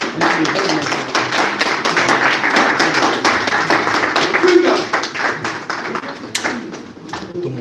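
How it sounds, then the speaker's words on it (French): An audience at a press conference claps steadily in welcome for Werrason, a dense, loud patter of hands with a few sharper taps, an announcer's voice running over the applause. "On va tous accueillir sur un tonnerre d'applaudissements Monsieur Werrason"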